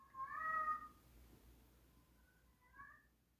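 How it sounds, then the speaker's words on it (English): A pet cat meows twice, once near the start and again more softly near the end, both fairly faint against a quiet indoor room during a live chat. "He always does this cat call when I get on live."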